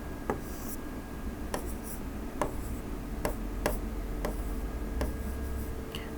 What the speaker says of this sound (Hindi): अब येलो एरिया ऊपर लिखता हूँ